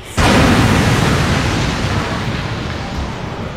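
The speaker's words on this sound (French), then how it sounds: "Explosion." A big explosion sound effect bursts in sharply after a brief pause, then rolls on as a heavy, loud, low rumble that slowly fades over a few seconds.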